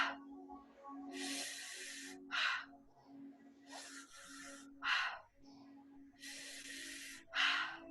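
Deep breathing in during a guided breathing exercise, several loud breathy inhalations and exhalations in a slow repeating rhythm, close to the microphone.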